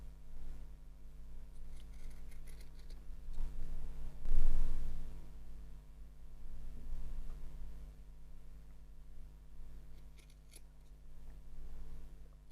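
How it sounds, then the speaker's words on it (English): Scissors snipping pom pom yarn fibres to trim around a panda's nose, quiet close cuts over a steady low hum, with one fuller rustle partway through; no one talks. "I'm just going to go around trimming some of those hairs away from around the nose."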